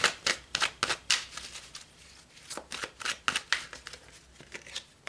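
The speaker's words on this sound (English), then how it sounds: "Pull some more cards" Tarot cards shuffled and drawn in quick papery riffles and slaps, a steady run of close, crisp bursts with brief pauses and no talking.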